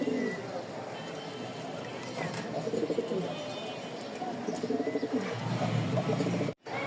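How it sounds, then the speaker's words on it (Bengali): Two pairs of pigeons in a loft give soft, repeated throaty coos close by, under someone talking over them. "এই হচ্ছে মোট 2 জোড়া, 2 জোড়া কবুতর।"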